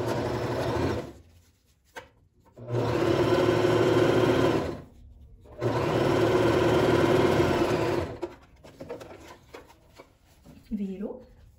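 A domestic sewing machine stitching synthetic fabric hums along in two sustained runs of a few seconds each, separated by short pauses, followed by light handling sounds.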